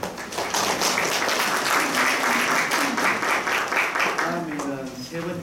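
An audience at a medical ultrasound symposium in Seoul applauds, a dense burst of clapping that fills the room, then thins and tapers off near the end while a voice begins speaking over it.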